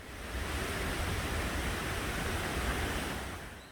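A shallow, rain-fed stream runs across a trail through an old fir forest at Odaesan in summer, giving a steady, dense rushing wash of water that fills the whole stretch, close and even, with no voices.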